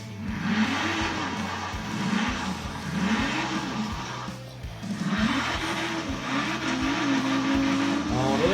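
A racing car in an Xbox game revs and accelerates in repeated surging waves, with a loud engine roar rising and falling over several seconds and tires squealing briefly near the end.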